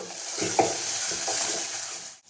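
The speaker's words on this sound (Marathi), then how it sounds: "आता हे सगळं व्यवस्थित परतून घ्यायचं." Red masala paste being sautéed in oil for a dried prawn curry, a soft continuous sizzle with a few spoon scrapes and taps against the pan as it is stirred.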